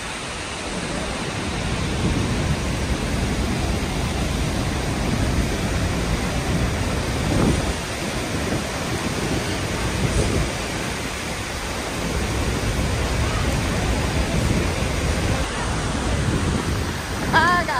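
Roar of water pouring over Niagara Falls, a steady, loud broadband rush that fills the whole stretch without a break, with faint voices now and then beneath it.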